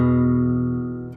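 A guitar rings out a slightly flat fifth interval as one steady, sustained chord that slowly fades over about a second. It is close and clear, with no talking.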